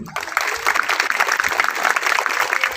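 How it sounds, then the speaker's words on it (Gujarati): Children and villagers applaud together at a school gathering in a Gujarat village, a dense, steady wash of clapping that starts abruptly and holds strong throughout, with no speech over it. "આપણે સૌ બાળ મિત્રો અને ગ્રામજનો તાળીઓથી એમને વધાવીએ"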